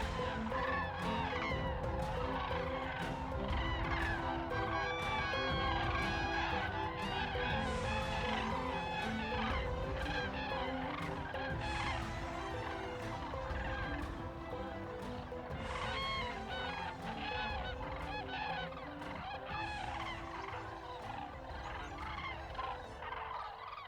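Grey cranes come in to land on a marsh at dusk, a dense chorus of trumpeting, rattling calls from many birds overlapping continuously, steady and fairly loud with a constant low background hum.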